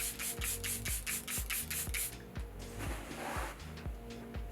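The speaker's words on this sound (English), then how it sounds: "Now I'm using this setting spray from Charlotte Tilbury." Charlotte Tilbury setting spray is spritzed in a soft, airy hiss partway through, heard close but fairly quiet under rhythmic background music.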